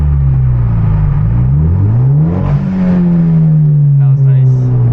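Manual Hyundai Genesis Coupe with loud exhaust and turbo flutter in a tunnel at night, a close, booming exhaust note rising and falling through gear changes, echoing off the walls, with a brief fluttering burst near the end.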